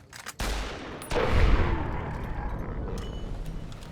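Rifle fire in Fallout: New Vegas, a sharp loud shot opening the sequence and a second heavy blast about a second later, each trailing into a long rumbling decay.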